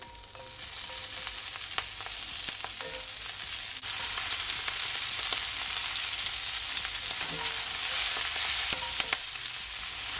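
Spinach sautés in a pot with a dense, continuous sizzle and crackle, occasional stirring clicks rising above it, no voices.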